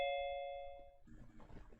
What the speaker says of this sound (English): didn't y'all hear like a doorbell? Ding ding.